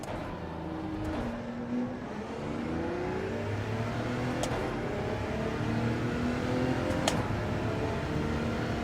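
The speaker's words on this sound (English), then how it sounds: "Look, listen to this car now, chat." A racing car engine in Gran Turismo 7 hums and whines steadily at Monza, revving with shifting pitch over several seconds, fairly close and continuous with no talking.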